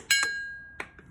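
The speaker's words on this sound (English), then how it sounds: "That was the sound of the pin" A sharp metallic clink with a ringing tone as a metal pin pops out of a 2021 Honda Monkey foot peg, followed moments later by a second, softer click and a faint tap, close up and otherwise quiet.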